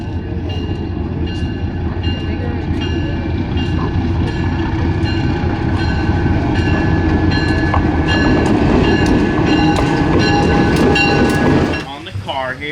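A steady, loud rumble of a train rolling along the rails, with rhythmic clattering and metallic squeals throughout, easing off near the end.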